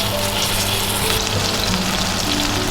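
Prawns frying in hot oil in a pan for a pumpkin and prawn stir-fry, giving a steady, dense crackling sizzle that holds evenly throughout without talk.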